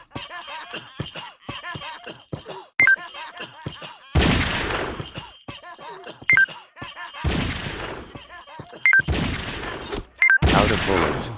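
Gunfire in the game Frequency Missing, several loud sharp bursts of shots separated by quieter gaps with small clicks and chimes.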